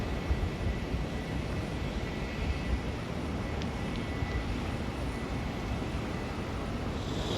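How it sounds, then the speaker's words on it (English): An Alaska Airlines Embraer E175LR departs on the runway at Hollywood Burbank Airport, heard as a moderate, steady engine rumble in the distance, unbroken and without speech. "Alaska Airlines heading to Santa Rosa Flight 3401 and an Embraer E175LR. Now departing on the runway."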